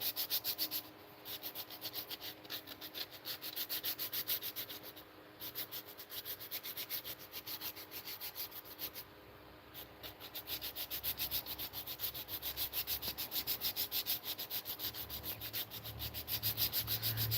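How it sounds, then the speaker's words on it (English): Hoop earrings of African blackwood, some with curly maple, are sanded by hand in steady, continuous rubbing strokes, close and fairly quiet, with a few brief pauses and no talking. "Figure since I'm going to be sanding all day, might as well go live and sand live."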